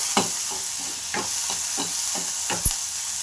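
Tomato pieces frying in oil in a pan for tomato sambar, with a steady background sizzle and a series of stirring scrapes at a regular rhythm, close and alone.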